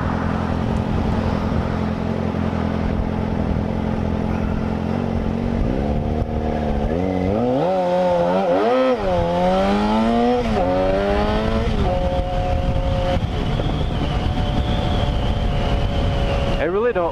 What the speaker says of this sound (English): I really don't like that rattly backfire this thing does.